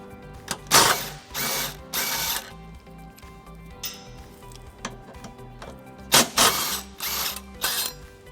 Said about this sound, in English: Using a 17mm socket, we're going to go ahead and remove these two bolts that are holding the tow hook in place.